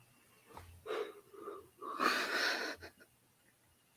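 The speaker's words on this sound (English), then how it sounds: "I don't know how to stop yawning." One person yawns late at night, close and quiet: a breathy, wheezing intake rises into a longer, louder drawn-out exhale, then fades into near silence with no talking.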